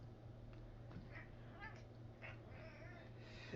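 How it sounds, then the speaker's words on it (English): A cat meows several times, faint and drawn out, inside a studio over a steady low electrical hum and room noise. "There was cat coming in here."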